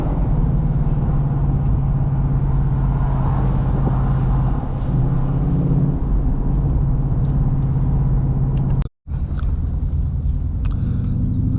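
A 2024 Ford Mustang GT Convertible with its Coyote V8 drives along, giving a steady, loud engine rumble with road noise that dips to near silence for a moment near the end before picking up again.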